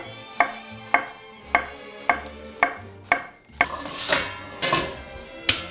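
A knife chops cucumbers at an angle on a cutting board in sharp, evenly spaced strokes, about ten distinct taps near and clear, the later ones sounding brighter and more clattery.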